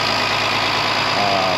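A 1966 Mercedes-Benz 230 Fintail with Solex carburetors idles smoothly and steadily, a close, even engine hum with no one talking.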